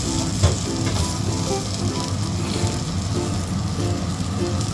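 A cheese wrap cooks in a pan over a low flame, giving a steady, even sizzle with faint scraping underneath and a soft tonal hum in the background.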